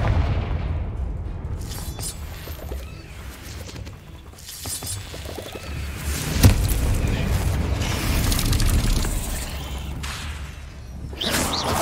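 Confringo blasting spell from Hogwarts Legacy: repeated booming blasts and rumbling amid clattering game effects across several seconds, with one sharp crack standing out midway, no talk.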